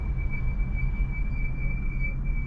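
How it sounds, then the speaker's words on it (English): Brakes squeak on a 500 hp BMW 435i crawling through standstill traffic, giving a thin, steady high-pitched squeal that holds level over a low cabin rumble. "And those are my squeaky brakes."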